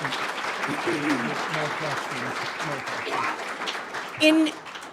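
An audience applauds panelists at the close of a weekly meeting, a steady wash of clapping that runs under a talking voice and swells briefly near the end.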